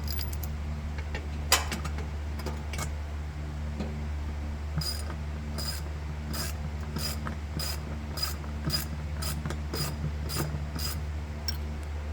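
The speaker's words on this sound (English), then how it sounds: "it's the only ratchet I have that does that" A ratchet wrench works a nut on a Detroit riding mower fitted with dual wheels, giving a run of quick, evenly spaced metallic clicks over a low steady hum, fairly close and moderately quiet.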